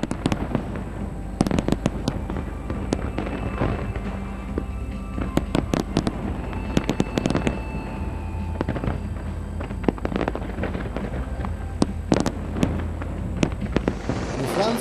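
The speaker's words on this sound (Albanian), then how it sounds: "ishte një spektakël i vërtet fishek zjarresh" Fireworks bursting over London for New Year 2015, with dense crackling pops and sharp bangs arriving in irregular clusters throughout, loud and fairly close above a steady crowd murmur.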